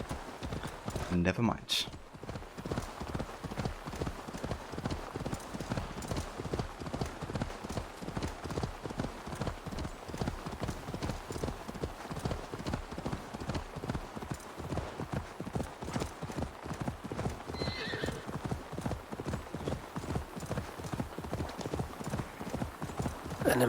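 Horse hooves clip-clop in a steady, brisk rhythm while riding on horseback in Assassin's Creed Valhalla: Wrath of the Druids, loud and continuous, with occasional spoken voices over the hoofbeats.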